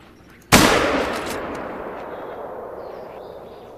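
A single loud rifle shot rings out at a whitetail doe in theHunter Call of the Wild, a sharp crack followed by a long, slowly fading echo.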